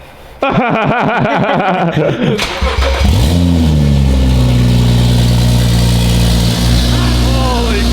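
A car engine fitted with an aftermarket exhaust cranks, catches and settles into a loud, rough idle with a chugging, tractor-like rumble, close by.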